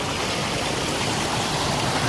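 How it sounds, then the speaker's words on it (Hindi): Mountain stream water in Turtuk, Ladakh rushes into intake pipes, a close, dense and steady wash of flowing water with no pauses or voices. "सो यहाँ से ये पानी स्ट्रीम में तो जा ही रहा है, साथ ही में इन पाइप्स में जाता है"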